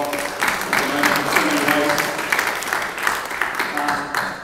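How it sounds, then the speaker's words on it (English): An audience in Adelaide applauding at a hip hop summit, a dense, sustained wash of clapping throughout, fairly loud and even, with voices mixed in beneath it. "give yourselves a round of applause"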